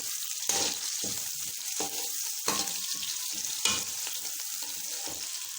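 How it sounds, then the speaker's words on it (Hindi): Steady sizzling of two onions frying golden brown in hot oil, with occasional louder crackles and stirring scrapes throughout. "तो ये 2 अनियन इसमें डाल देंगे, गोल्डन ब्राउन कर लेना है इसको।"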